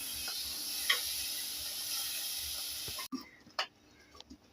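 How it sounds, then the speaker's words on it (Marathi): Masala frying in oil in a pan for misal, giving a soft continuous sizzle, then a few clicks and stirring scrapes after the sizzle drops away. No talk over it. "तेल सुटेपर्यंत हा मसाला आपल्याला तेलामध्ये परतून घ्यायचा आहे,"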